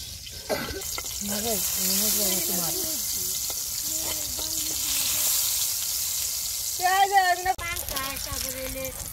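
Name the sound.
eggplant frying in oil, sizzling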